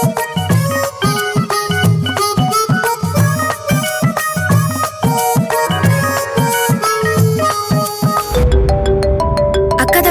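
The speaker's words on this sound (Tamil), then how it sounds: "கால் பண்றாங்க." A mobile phone rings for an incoming call, playing a loud, steady melodic ringtone with a regular beat that runs throughout and then changes abruptly near the end, with no voices.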